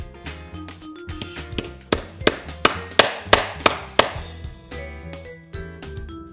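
Starter clips are tapped onto a cut wooden wall panel board, a series of sharp, hollow knocks that speed up into quick, evenly spaced blows before tapering off, close and alone.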